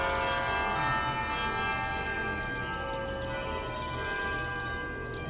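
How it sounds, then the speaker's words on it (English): School bells ring in the zombie video game All Of Us Are Dead. A steady, sustained metallic tone holds for several seconds at a constant loudness, with faint chirps above it. "The school bells."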